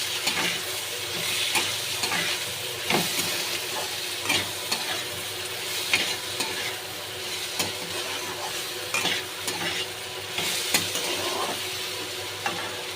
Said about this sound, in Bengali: মিক্স করে একটু নেড়ে চেড়ে নেব।